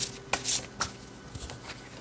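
A tarot deck is shuffled and cards are drawn, giving a few quick, crisp papery riffles and flicks close by. Short soft taps fall between the riffles, with no talking.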